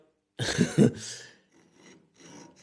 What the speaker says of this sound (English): carefully and slowly filing down this lip to get the headset in the position